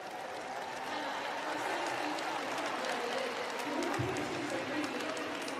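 A large stadium crowd at a Friday evening para athletics championship event in London keeps up steady applause and cheering, a continuous dense roar of clapping heard from a distance with no clear breaks.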